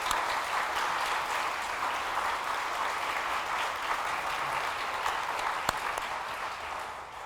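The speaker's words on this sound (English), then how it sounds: "How about some applause for both of them?" At a book awards celebration, an audience gives sustained applause that stays at an even, moderate level throughout, with one sharper clap standing out near the end.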